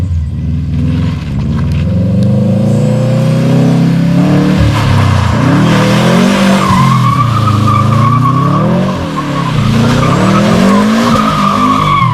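A Subaru GC8 STI drifts on its first drive after a build, tires skidding and squealing continuously as the engine revs rise and fall, loud and close for the whole stretch.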